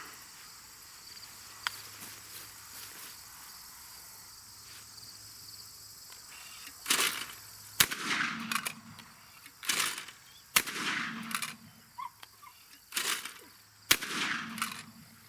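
Browning A5 Sweet Sixteen 16 gauge autoloading shotgun fired at clay targets outdoors, with about six sharp, loud shots spaced roughly a second or two apart over a steady chorus of crickets.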